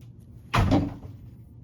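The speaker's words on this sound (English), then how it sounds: "She likes to open and close doors" A cat opening and closing a door indoors, one sudden wooden thump and short rattle that quickly fades into quiet room tone.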